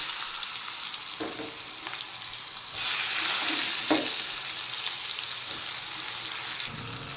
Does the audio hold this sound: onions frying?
yes